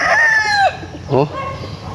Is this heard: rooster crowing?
yes